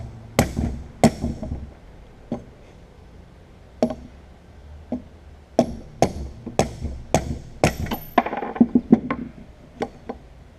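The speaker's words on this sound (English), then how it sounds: "maybe hit on that a little bit with like a rubber hammer or something" A rubber hammer strikes a metal part of an International Harvester 1066 tractor repeatedly in dull, heavy thuds, irregularly spaced, some in quick clusters, close and fairly loud.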